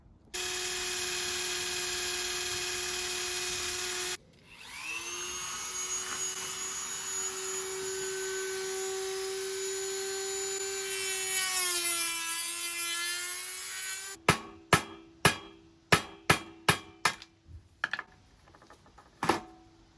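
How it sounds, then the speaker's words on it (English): A power drill whines loudly and steadily, its pitch sagging under load as it drills out a metal pop rivet on a Raleigh Record bicycle, then a series of sharp clicks and taps. "this pot rivet is only really removable with the use of a drill, so in we go."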